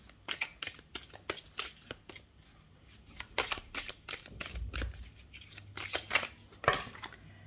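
Tarot cards are shuffled and drawn in a quiet room: a brisk series of crisp riffling flicks and soft slaps, close by, coming in uneven bursts with short pauses between, no talking.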